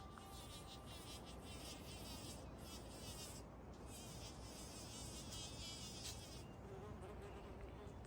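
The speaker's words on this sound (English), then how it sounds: "It's a loud little bee." A bee on blooming comfrey in a garden buzzes close by with a steady, faint drone that wavers as it moves, set against quiet outdoor ambience.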